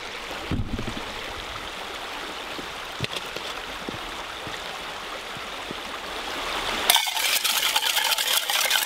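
River water rushes steadily along in a continuous, moderately loud flow, with occasional small knocks and a brief louder splash toward the end.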